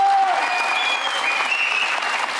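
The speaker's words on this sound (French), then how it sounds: "je pense que vous pouvez m'applaudir encore" Studio audience on a French TV comedy show applauds continuously, a full, even roar of many hands clapping with a few faint whistles riding above it throughout.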